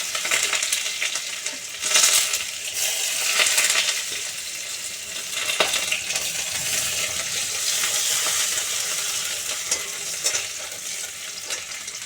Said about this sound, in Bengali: তেলের মধ্যে এক চামচ রসুন বাটা দিয়ে দেবো একটা ছোটো পেঁয়াজ কুচি দিয়ে দেবো